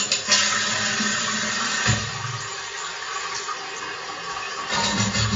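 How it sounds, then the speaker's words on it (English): A toilet flushing in a steady rush of water, starting with a sharp clunk of the handle, holding a continuous gurgling swirl, and swelling again near the end, close and fairly loud with no talk. "Let's import the toilet flush."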